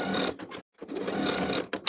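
A sewing machine stitches shoulder seams of a fully lined summer vest at a 3/8 inch seam allowance, running in two close, steady bursts with a brief stop between and a few lighter clicks near the end.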